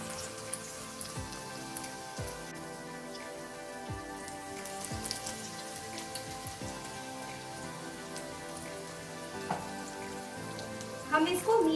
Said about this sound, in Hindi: अभी हम इसको बैटर में डिप करके इसको गोल्डन होने तक फ्राई करेंगे।